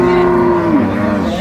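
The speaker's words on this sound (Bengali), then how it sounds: "ষাঁড় বাচ্চা।" A bull calf at a rural cattle market lets out a single loud, close moo that holds steady and then drops in pitch, with no talk over it.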